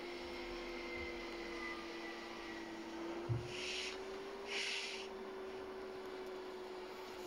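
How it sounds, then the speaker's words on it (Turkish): A bus engine in the mobile game Bus Simulator, giving a steady vacuum-cleaner-like whine and hum that runs throughout, with a brief thump and a couple of short hissing bursts midway. "Ama otobüsün sesi şey, süpürge makinesi gibi."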